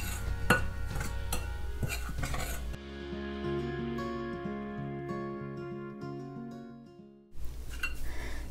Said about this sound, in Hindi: इसके बाद इसको हम अच्छे से मिक्स कर लेंगे।